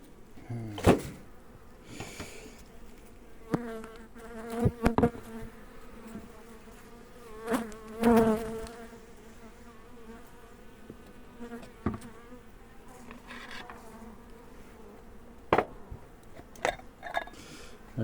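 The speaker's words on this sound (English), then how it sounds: "Just took the lid off this hive" Honeybees buzzing in an opened hive in Álava, Basque Country, a soft steady hum close by, with scattered knocks and scrapes of hive parts being handled and no talk.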